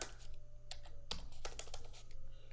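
Keys on a computer keyboard clatter in quick, uneven bursts while Urdu text is entered in Inpage, with nearby clicks over a low steady hum and no talking.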